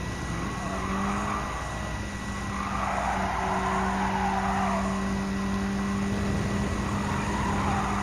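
Mazda Roadster racing in Gran Turismo 7, a steady engine drone with tire squeal through a bend, continuous and fairly loud with no voices.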